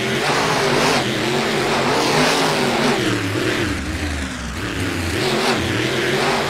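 Two custom racing trucks launch off the start line at a king-of-the-hills style race, engines revving loud and close in a continuous roar with rising and falling pitch.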